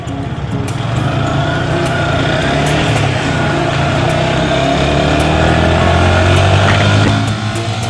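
Yamaha Vixion motorcycle riding off after a workshop service, its engine droning loud and close with a steady, slightly rising note, alone without talk.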